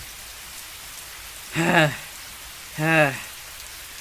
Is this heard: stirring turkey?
no